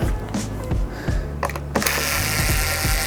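Screws being worked loose inside a Technics turntable with a tool, giving close, repeated ratcheting and scraping clicks in short bursts, ending in a sustained hissy mechanical noise.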